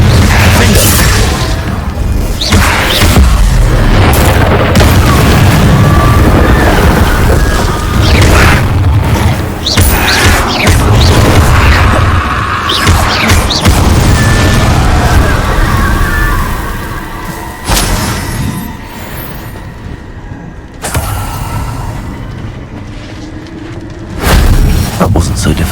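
Blasting-spell explosions go off in a Harry Potter video game, with loud deep booms and crashing bursts repeating through the scene, dense and close, easing briefly before another blast near the end.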